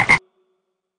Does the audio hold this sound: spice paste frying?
no